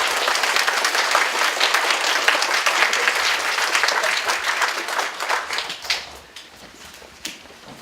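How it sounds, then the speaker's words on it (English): Audience applause for essay winners at a school DARE graduation, dense steady clapping filling the room and then thinning and tapering off toward the end, with a few scattered claps trailing. "let's give a round of applause to our essay winners"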